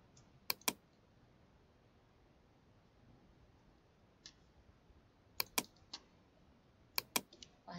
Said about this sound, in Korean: 컨트롤 T를 누르고요